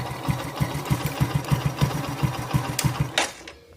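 A Bajaj CT125 motorcycle engine idles after a starter relay repair, a steady, close, rhythmic low putter of regular firing pulses, fading out near the end.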